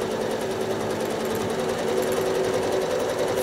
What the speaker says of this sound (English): stitching a little bit into that T-shirt fabric block and a little bit off